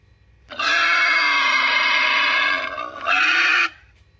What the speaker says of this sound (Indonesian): babi hutan